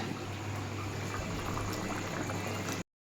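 Fish curry broth of catla fish with elephant foot yam bubbles at a steady, full boil in a pot, a continuous close hiss and gurgle that runs without pause and then cuts off abruptly.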